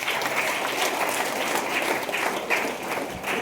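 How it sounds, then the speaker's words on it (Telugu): A hall of diploma students at an orientation programme claps hard, a dense and loud burst of applause that stays steady throughout. "క్లాప్ కొట్టాలి గట్టిగా."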